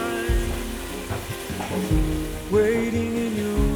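Red wine and port poured into a pan of softened vegetables set off a steady, close sizzle and bubbling frying hiss for a pie of short rib of beef, running continuously with faint music underneath.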